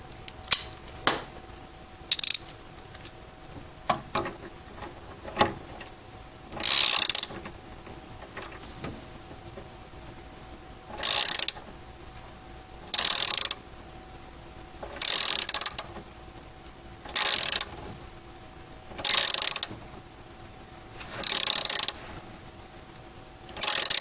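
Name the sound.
9/16 socket wrench ratcheting to tighten a nut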